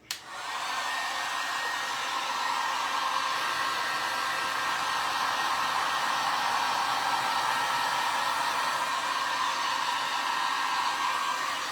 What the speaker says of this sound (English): that heat gun kind of spreads it around a little bit better